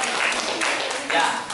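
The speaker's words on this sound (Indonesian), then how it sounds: "tepuk tangan buat Rahma" A classroom of students claps for a classmate named Rahma during a teaching-practice lesson, a brief, close burst of dense applause lasting just over a second alongside speech.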